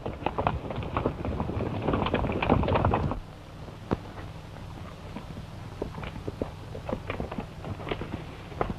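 Dense clip-clopping hoofbeats of several horses, loud for about three seconds, then breaking off to a few scattered distant thuds and clicks.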